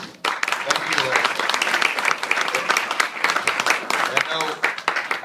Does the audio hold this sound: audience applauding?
yes